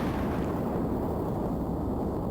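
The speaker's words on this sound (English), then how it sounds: "The explosions." Loud, continuous rumbling explosions from the Final Fantasy II video game roar without pause, a dense booming wash with no speech.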